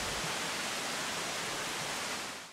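Steady rushing water fills the whole stretch, a broad, even hiss like a stream or small cascade, with no voices or other sounds.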